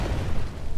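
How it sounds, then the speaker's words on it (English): A video game explosion erupts in a dense, low booming rumble that fills the whole short moment without pause. "observing this explosion from a safe"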